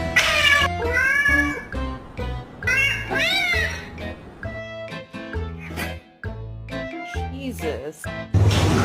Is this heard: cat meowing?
yes